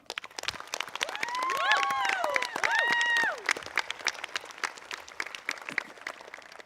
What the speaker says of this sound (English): Please join me in a round of applause for them now.